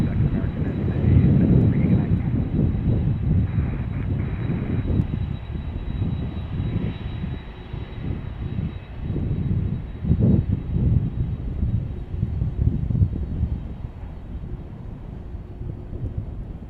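A UPS cargo jet passes close overhead at Chicago O'Hare, a loud, rumbling engine roar that swells early, surges again midway and rolls on with buffeting low-end noise, with no talk over it.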